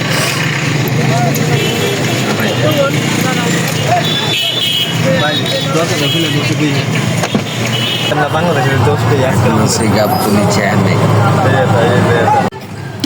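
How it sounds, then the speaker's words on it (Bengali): Dense road traffic rumbles steadily nearby, engines idling and moving with scattered horn toots, while people talk over the constant noise. "জ্যামের অবস্থা দেখলাম"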